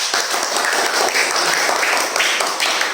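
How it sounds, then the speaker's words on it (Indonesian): A classroom of fourth-grade students applauds for group A during an Islamic history lesson, steady dense clapping filling three seconds at close range with no voices over it. "Tepuk tangan untuk kelompok A."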